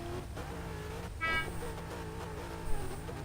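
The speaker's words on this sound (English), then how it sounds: "Heard one horn. There's that second horn." Car horns honk at the start of a street-car drag race, a brief toot cutting through steady engine idle, with another short blast near the end.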